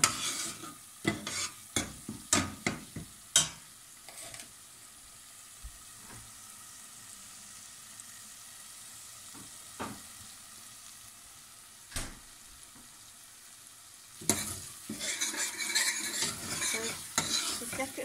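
A sauce with chickpeas cooks in a pan for a spicy Indian green pea soup, with a faint sizzle under a series of sharp stirring scrapes and utensil knocks that cluster at the start and near the end.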